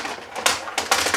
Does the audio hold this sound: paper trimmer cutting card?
yes